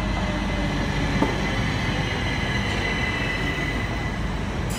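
A Class 377 train pulls into platform 3 at Southampton Central on the South Western Main Line, a loud steady rumble of wheels on rails with faint squeals and a brief clank partway through, no voices.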